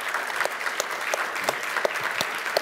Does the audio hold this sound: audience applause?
yes